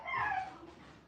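A dog gives a brief whining yelp, close and fairly quiet, a single rising cry that fades within a second as the dogs react to someone arriving home.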